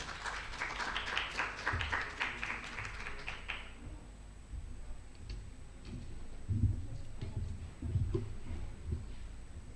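Audience applause at a university World Mental Health Day observance at Manipur University, a crowd clapping in a dense burst that fades out after about four seconds, leaving quiet room noise with scattered taps.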